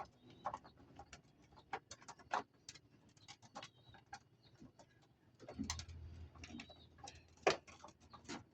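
Racing pigeons during a training release in San Simon, Pampanga, coo softly amid scattered sharp ticks and flutters, faint and intermittent, with a low hum joining midway.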